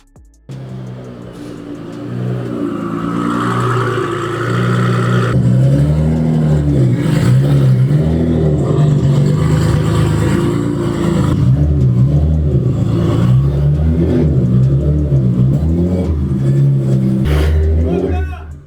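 A 2000 horsepower Nissan GT-R R35 on a dyno drones in a sustained, loud engine note that rises and falls through repeated revs, holding strong for most of the stretch before cutting off at the end.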